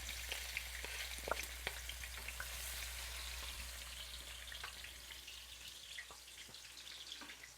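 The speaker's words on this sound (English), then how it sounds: "I like to fry the garlic first." Chopped fresh garlic and scallion fry in hot oil in a pot for ackee and saltfish, giving a steady close sizzle scattered with sharp crackles and pops, with no voices.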